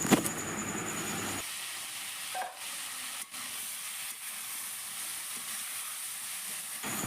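Vegetables for a vegetarian pumpkin chhokka fry in a pan with a steady, hissing sizzle, broken by a few brief stirring scrapes and occasional knocks.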